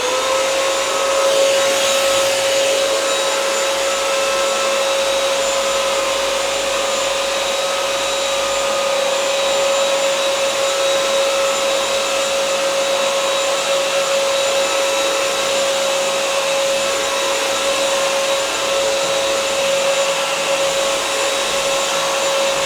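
A BISSELL Crosswave Pet Pro wet-dry vacuum cleaner runs steadily while sucking almond milk off the floor with odor neutralizer, giving a loud, constant motor whine with a high tonal hum and no pauses throughout.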